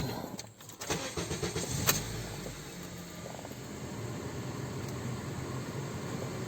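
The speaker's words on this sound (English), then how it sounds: "gonna start the car and turn the AC on" Clicks and a short cranking burst, then a Honda CR-V engine catches and settles into a steady idle nearby.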